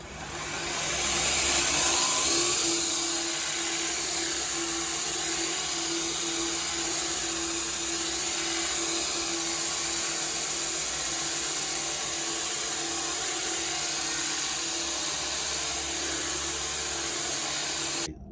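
Surface grinder with a thin abrasive belt grinding a knife blade: a steady, loud whirring hiss with a constant motor hum and scratchy grinding texture throughout, cutting off abruptly at the end, no voices.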